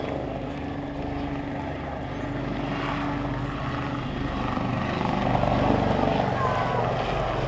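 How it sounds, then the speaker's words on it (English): Two Lynx military helicopters flying, a low rotor and engine drone that swells slightly louder toward the end, heard from a distance. "these two aircraft, part of the Lynx fleet that will be retired in around 4 years"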